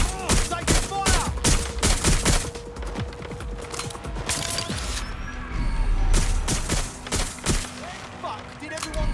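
Dense video-game gunfire from Watch Dogs Legion, with rapid bursts and automatic fusillades crackling throughout amid mechanical clatter, loud and continuous with occasional impacts.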